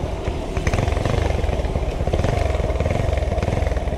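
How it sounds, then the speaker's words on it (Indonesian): A Honda CB motorcycle ridden slowly on a busy road, its engine putting out a loud, close, steady pulsing rumble with a rapid, even throb throughout. "Kita nikmati motornya, enak buat santai nih Sam."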